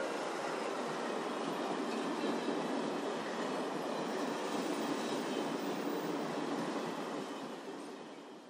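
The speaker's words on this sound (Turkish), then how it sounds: "Sonunda tren Kars Garı'na giriyor." A train pulls into Kars station at the end of a 26-hour journey, giving a steady, loud rumble of rolling wagons and rail noise that holds throughout and eases slightly in the final second.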